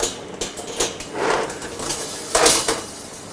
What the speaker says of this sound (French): Il ne nous reste plus qu'à enfourner au four à 150 degrés pendant 2h30